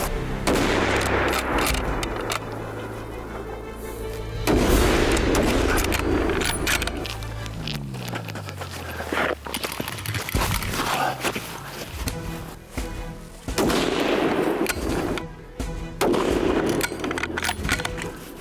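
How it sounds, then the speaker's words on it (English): Rifle shots fired at a target during a Montana shooting drill with prone positions and lateral movement, loud sharp reports in a few clusters over a continuous rumbling background. "fire 2 more shots into the brain bucket of your target"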